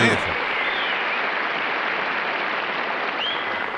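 A studio audience applauds during a scene from the sitcom The Honeymooners, a dense, even wash of clapping that holds steady throughout.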